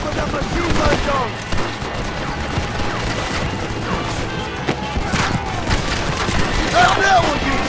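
Machine gun fire in the 2010 western game Red Dead Redemption, a continuous clattering barrage of shots and impacts running throughout, mixed with game voices.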